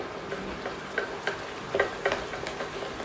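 Rice and gram flour khichu dough being stirred in a pan, with soft irregular scraping and ticking taps close by and no voices.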